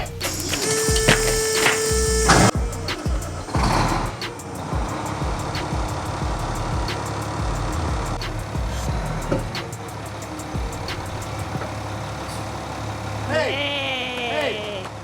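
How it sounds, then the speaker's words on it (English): A converted school bus engine cranks and catches, then settles into a steady low idle rumble, with people talking and exclaiming over it and a brief squealing whine near the end. "Are you happy the bus is starting?"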